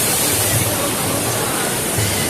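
Rain falls outdoors during a fishing trip, a dense, steady wash of noise that stays loud and unbroken throughout.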